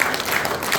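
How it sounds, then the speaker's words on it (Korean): Audience applause at a harmonica workshop's New Year gathering, a brief steady wash of clapping from a crowd indoors. "자, 다시 한번 박수 부탁드립니다."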